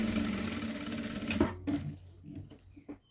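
Close, loud stitching from a sewing machine sewing a child's boys' outfit runs for about a second and a half, then stops, leaving a few soft handling knocks.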